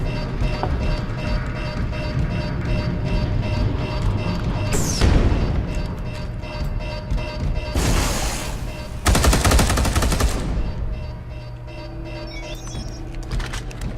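Gunfire in Space Hulk Deathwing, a Warhammer 40,000 shooter: sustained heavy automatic bursts rattle over a constant rumbling game backdrop, with sharp louder volleys midway.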